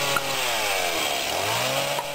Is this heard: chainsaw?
yes